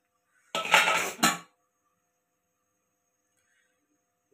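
A metal pot or utensil clinks against a kadai full of fish curry, a short cluster of bright clattering knocks close by, followed by near silence.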